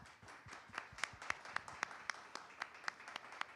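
Sparse, quiet clapping from a small audience after a round table at a winter innovation challenge event, distinct individual claps spaced roughly evenly, fairly distant, with no talking over them.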